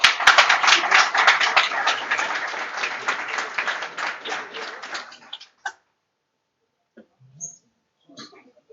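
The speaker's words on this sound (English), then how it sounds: "I suggest that we give an applause" Audience applause closing a lecture on wind and hydropower in Norway's energy policy, a dense burst of many hands lasting about five seconds before fading into a few scattered claps and quiet.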